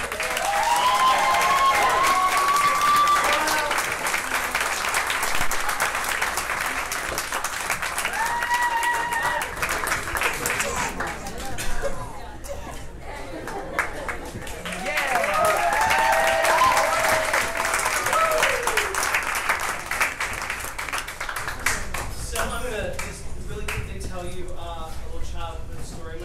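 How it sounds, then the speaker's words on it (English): Theatre audience applauding and cheering for a cast at a Creative Cauldron show, a sustained loud wash of clapping across the whole stretch with scattered whoops and voices mixed in. "Can we have a round of applause for them?"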